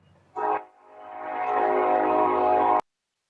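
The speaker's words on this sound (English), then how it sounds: "Here comes the train." A train horn sounds in a short blast, then a long sustained blare that swells in loudness and cuts off abruptly, heard from a moderate distance with no talk over it.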